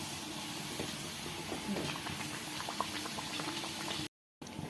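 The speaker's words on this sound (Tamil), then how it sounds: "ஸ்லோ ஃப்ளேமில் வச்சு நல்லா வேக வச்சு எடுத்துக்கலாம்" Sajja appam batter frying in hot oil over a slow flame, a steady close bubbling sizzle with crackling pops running throughout before a brief cut to silence near the end.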